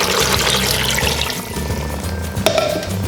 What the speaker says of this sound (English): And then I'm going to pour in the rest of my water here.